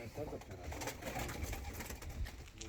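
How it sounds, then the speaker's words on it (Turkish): Turkish play pigeons are flown over a coop, with soft cooing and wing flutters close by over a busy, steady outdoor background. "oyun kuşları uçuruluyor"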